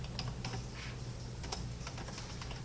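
Typing code on a computer keyboard, a steady patter of quiet key clicks in a close, soft sequence with no talk.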